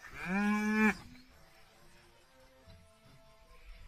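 A single loud, drawn-out cow moo rings out close by for about a second, with clear harmonic tone, followed by a quiet, low background rumble with no further calls.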